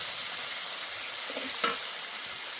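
Shrimp paste frying with tomatoes in a pan, a steady close hiss of sizzling oil with a brief utensil tap and scrape midway, no voices.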